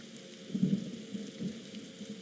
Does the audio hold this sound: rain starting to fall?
yes